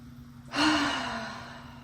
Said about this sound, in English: let's inhale and take a loud, audible exhale